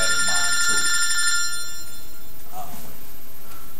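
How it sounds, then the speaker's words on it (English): A telephone bell rings with a bright, sustained metallic trill early on, then fades out while a person speaks faintly in the background of an indoor interview. "Phone's ringing off the hook."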